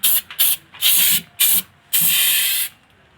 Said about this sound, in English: now going to give it a quick spray